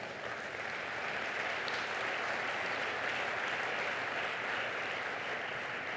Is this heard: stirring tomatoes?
no